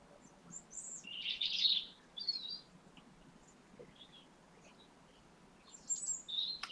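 Birds sing outdoors in short, scattered chirps and trills, faint to moderate and somewhat distant over a quiet background, with no talking.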